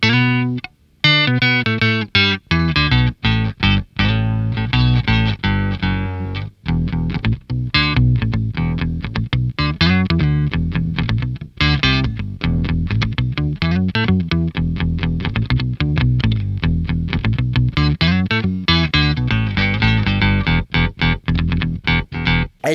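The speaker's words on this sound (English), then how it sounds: "it sounds kind of like a bass is underneath the guitar, thicken things up" Electric guitar run through a Sonicake Octaver pedal set to a single octave below, so a thick bass-like tone doubles every note; a long stretch of dense, rhythmic riffing with choppy attacks and steady loud level, no speech.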